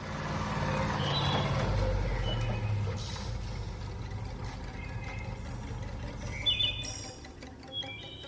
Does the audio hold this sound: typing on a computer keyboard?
no